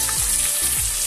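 Tomatoes and spices sizzle steadily in a pan for palao, a dense continuous frying hiss with a couple of stirring scrapes, close and loud.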